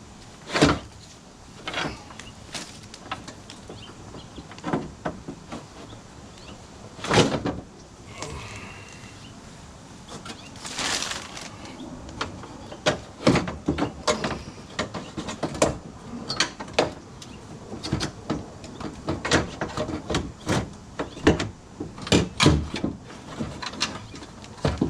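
Scattered clicks, rattles and plastic knocks as a window regulator is worked out of a 1998–2001 Subaru Impreza door, irregular sharp taps close by with quiet gaps between them and no talk.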